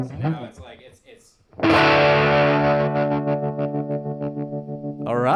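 An electric guitar rings out loud and driven through a tremolo and distortion pedal, with a pulsing tremolo wobble, the chord sustaining for a few seconds after some brief talk.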